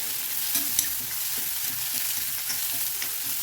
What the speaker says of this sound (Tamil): நம்ம நல்லா ஃப்ரை பண்ணிக்கலாம்